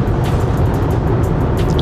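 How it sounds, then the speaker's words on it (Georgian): Inside a BMW X5 on the move, wind rushes against the body, a constant loud low roar mixed with road rumble filling the cabin, with no talking. "როგორ შემოდის ქარის ხმა, თუ მე მგონი გარეთ ძალიან ქარია"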